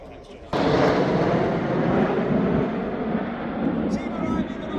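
Red Arrows jets arrive in Diamond Nine formation at the RIAT airshow, bursting in with a sudden loud, broad roar that rumbles on steadily overhead.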